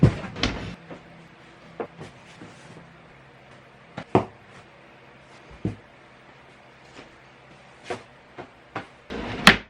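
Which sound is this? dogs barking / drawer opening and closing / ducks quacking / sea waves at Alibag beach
drawer opening and closing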